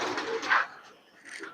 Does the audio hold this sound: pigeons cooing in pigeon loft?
yes